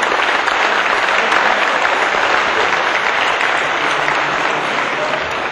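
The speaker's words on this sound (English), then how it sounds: "a round of applause for everyone who made it possible for the young people to be here this afternoon." An audience at a Holocaust Day of Remembrance event gives a sustained round of applause, dense and loud clapping from many hands filling the room without a break.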